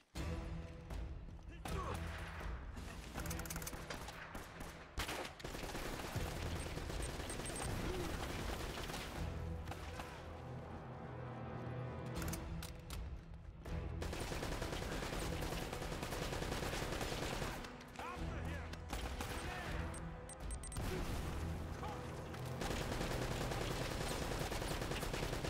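Machine gun fire in the Uncharted video game, dense rapid bursts of automatic gunshots with brief pauses, loud and sustained over a game soundtrack, with voices talking at times.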